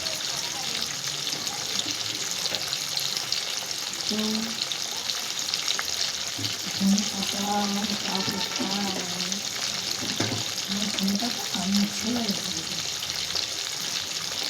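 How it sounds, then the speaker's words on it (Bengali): Pieces of katla fish fry in hot oil in a pan with a steady, close sizzle. A voice murmurs faintly under it now and then. "উল্টো দিকটাও একটুখানি ভাজা ভাজা করে আমি তুলে নেব।"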